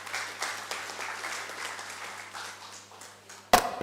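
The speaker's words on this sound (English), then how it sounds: "A wide round of applause and thanks to all the participants." Steady applause from the audience at a Teacher's Day lecture, moderate and even for several seconds, ending in a sharp close thump.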